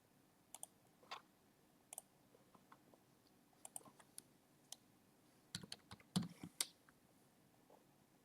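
Fingers type on a computer keyboard in scattered, quiet keystroke clicks, growing into a brief quick flurry of taps toward the end, close in an otherwise quiet room.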